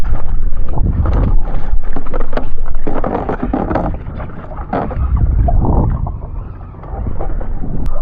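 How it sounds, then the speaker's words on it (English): Strong coastal wind at Plymouth near a breakwater during a jet ski outing, roaring and buffeting the microphone in continuous low gusts that swell and ease over several seconds, with no talking. "the wind really hasn't died down"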